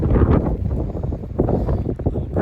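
Strong gusts of wind buffeting the microphone on an Appalachian Trail mountain climb near Chairback, a loud low rumbling roar that surges and dips for a couple of seconds.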